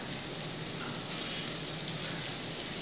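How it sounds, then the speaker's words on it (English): Turkey burgers sizzling steadily on a preheated grill pan, a continuous bright hiss of fat and moisture holding an even level throughout with no talking. "I'm gonna add it on our grill pan here that I have kind of preheating"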